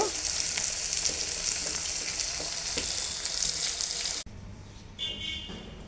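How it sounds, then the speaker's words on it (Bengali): Paneer pieces frying in oil in a pan on a clay stove, a loud continuous sizzle that cuts off abruptly near the end, leaving quieter kitchen background. "পনিরটাকে একটু কড়া করে ভেজে নিয়েছি। এবার নামিয়ে নেব। এভাবে আমি সবগুলো পনির ভেজে নেব।"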